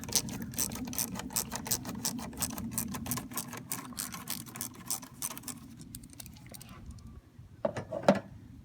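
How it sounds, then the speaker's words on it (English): An 8mm socket wrench loosens an intake clamp on a 1996-98 Mustang GT, giving a rapid run of ratcheting clicks that slow and stop, followed by a couple of faint metallic taps. "So we're going to use an 8mm socket here to open up this clamp."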